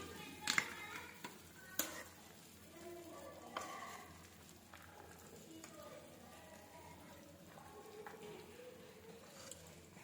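Chapati upma stirred in a pan gives soft scraping and sizzling with a few sharp clinks of the spoon against the metal, moderately close and fairly quiet.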